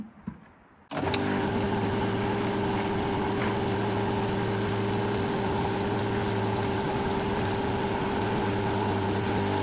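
An AVA Evolution P80 pressure washer starts after a moment of near silence, then runs with a loud, steady motor drone and hum while filling a 10-litre bucket.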